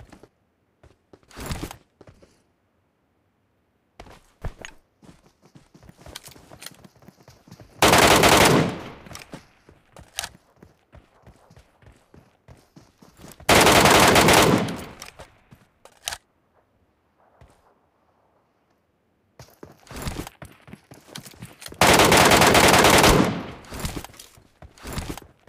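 Gunfire in the battle royale game BGMI, with scattered single shots and clicks punctuated by three long, loud bursts of automatic fire, close and dominant with little talking.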